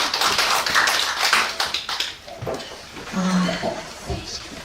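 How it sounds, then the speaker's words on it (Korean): Audience members at a national poetry recitation contest applaud 25 reciters with brisk, dense clapping that is loudest at first, then thins into scattered claps with a few voices in the room. "우리 25분에 대해서 다시 한번 큰 박수 수고하셨다고 보내주시겠어요?"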